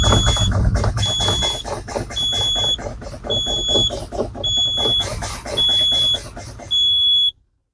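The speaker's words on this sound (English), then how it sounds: "my low air pressure warning light and buzzer have sounded at 65 psi" A truck's low air pressure warning buzzer sounds repeatedly during an air brake test with the engine off, a loud, steady electronic tone pulsing on and off in even bursts over rumbling brake application, then cutting to silence.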